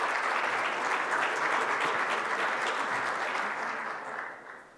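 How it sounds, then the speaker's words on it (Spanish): Audience at a cybersecurity summit applauds to welcome a speaker, a loud dense wash of clapping that holds steady and then fades out near the end. "con un fuerte aplauso la dejamos con ella y la recibimos"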